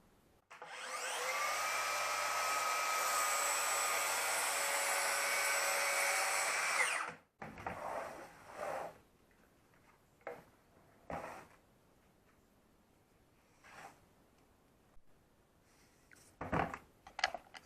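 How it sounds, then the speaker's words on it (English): A Makita 36V cordless track saw cross-cutting a 4x8 sheet of plywood, one loud steady whining cut lasting about seven seconds, then scattered clunks and handling noises. "So I'm going to be cross-cutting a 4x8 sheet of plywood."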